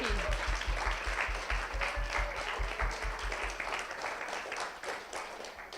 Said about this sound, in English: Let's give a round of applause to our mentors sitting in the back.